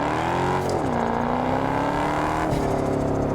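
A turbocharged car in the racing game TDU Solar Crown revs its engine, a steady rising-and-falling drone with a pitch dip near one second and a brief burst around two and a half seconds, loud and continuous with no talk.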